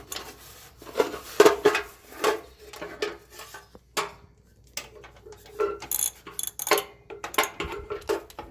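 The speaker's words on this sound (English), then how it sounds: "with a regular ratchet" A hand ratchet tightens the bolts of a trailer hitch on a 2021 Chevrolet Traverse, giving repeated clicking pawl bursts and metallic clinks in an uneven rhythm, close and fairly clear.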